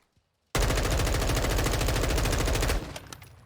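An M4 rifle fires one unbroken full-auto burst in Modern Warfare 2, loud and close, with rapid evenly spaced shots lasting a couple of seconds after a short silence, then a fading tail.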